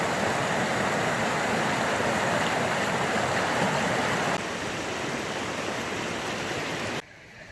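A swollen river rushes loudly and steadily past, a dense continuous roar of churning water close by that drops slightly in level partway through before cutting off near the end.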